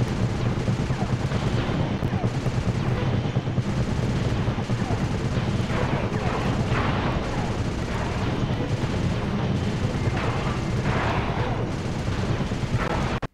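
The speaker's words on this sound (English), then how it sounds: "This gun fires a lot more rapidly than the last one." Loud, rapid bursts of gunfire from a weapon in the Sly 2: Band of Thieves video game during the Rajan boss battle, dense and continuous with booming blasts.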